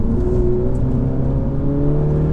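A GP3 race car accelerating along a hill climb road, its engine a steady, loud drone with rising harmonics that holds close and constant throughout, no voices heard.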